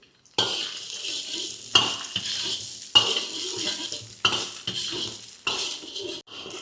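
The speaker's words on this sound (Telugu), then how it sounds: "ఇప్పుడు చికెన్ ఫ్రైడ్ రైస్ కాబట్టి చికెన్ వేస్తున్నాను, కట్ చేసుకున్న చికెన్ వేస్తున్నాను" Cut chicken pieces dropped into hot oil in a pan for restaurant-style chicken egg fried rice, with repeated metal spatula scrapes and clanks against the pan over a steady close sizzle, in about five bursts.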